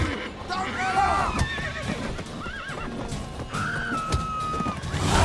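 Horses in The Witcher 3: Wild Hunt neigh and whinny repeatedly, with wavering high calls over hoof clip-clops and a busy game background, while voices speak over them.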